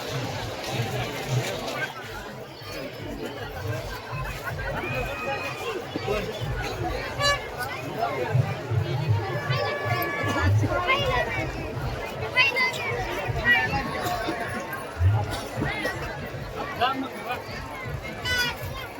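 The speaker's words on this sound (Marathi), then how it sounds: "पाहू शकता आता गर्दी लय झाली बरं का." A dense crowd mills about at Sakur's Biroba village fair (jatra) in Sangamner taluka on Nag Panchami, a steady murmur of many voices and activity, with nearby people talking over it.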